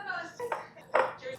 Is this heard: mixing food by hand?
yes